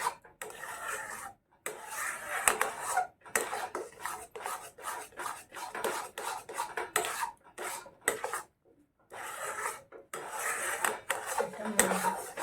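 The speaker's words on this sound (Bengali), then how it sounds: "এইভাবে অনবরত নাড়তে হবে।" A utensil stirs and scrapes gulab jamun dough mixture around a pan in continuous rasping strokes with brief pauses, close and fairly loud with no talk.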